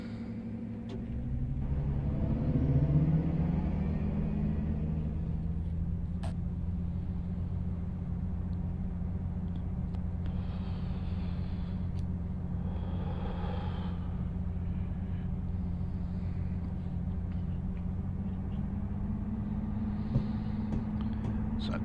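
Class 55 Deltic diesel locomotive pulling away from Barnstaple station in Train Simulator Classic, a steady low engine drone and rumble throughout with some brief mid-range swells, no talk.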